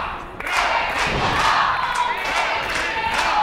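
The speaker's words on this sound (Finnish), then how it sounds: "Reginaa yleisö kannustaa sitkeästi." A pro wrestling crowd cheers and chants steadily for the wrestler Regina during a match, a loud, dense roar of many voices with rhythmic rising shouts and a thud from the ring.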